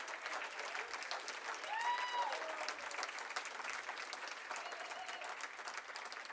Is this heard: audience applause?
yes